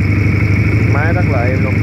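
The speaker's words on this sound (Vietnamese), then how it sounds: "để em bán tiếng máy nổ anh em nghe sơ tiếng máy đi, tiếng bồ cho nó hay" A Moto Rebel 125cc two-cylinder motorcycle engine runs at a steady, close idle with an even low hum, while someone talks over it.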